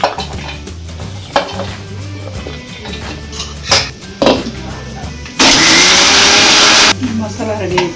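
A mixer grinder whirs loudly through a short burst, grinding coconut, tomato and coriander into masala, amid clattering kitchen utensils and a low background hum.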